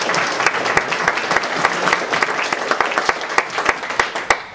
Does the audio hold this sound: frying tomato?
no